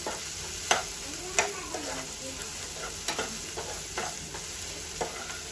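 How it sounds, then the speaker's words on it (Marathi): Ginger-garlic paste and onion fry in a pan for a dry whole masoor lentil curry. A steady close sizzle runs throughout, broken by sharp spatula scrapes and clinks roughly every second. "आपली आलं लसूणची पेस्ट पण त्यात छान अशी परतत आली"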